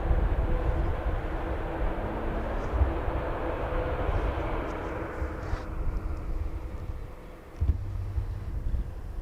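A TUI Boeing Dreamliner airliner at Schiphol Airport in windy weather gives a steady, loud broadband engine roar with wind buffeting the microphone, continuous throughout without talk.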